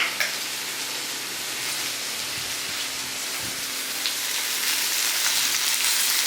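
Wild bitter gourd stir-fry with spices hisses steadily in a pan as it is stirred, a continuous bright sizzle with occasional soft scraping, no voices.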